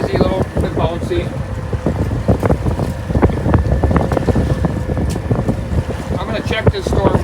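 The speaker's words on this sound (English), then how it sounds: "So it's kind of windy tonight" Wind gusts steadily around a fishing boat on a breezy, choppy night at sea, rumbling constantly in the microphone with irregular thumps and rattles.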